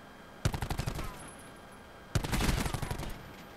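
Two rapid bursts of automatic gunfire in a first-person shooter, each a quick rattling string of sharp shots lasting about half a second to a second, separated by a brief quiet gap.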